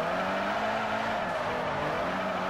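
A Fiat 500 essesse drifts in the racing game Forza Motorsport 4, with a loud sustained tyre squeal over a steady engine drone throughout.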